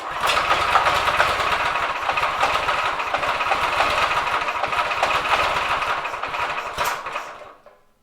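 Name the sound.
drift trike motor idling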